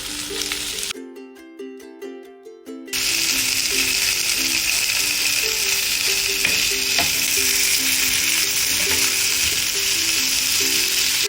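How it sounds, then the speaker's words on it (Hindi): Ginger garlic paste sizzles in a pan with paneer, a steady loud frying hiss that starts after a brief gap of quiet musical tones and then holds constant with occasional stirring clicks. "अभी इसमें मैं जिंजर गार्लिक पेस्ट जो 1 चम्मच लिया था उसको ऐड कर रही हूँ।"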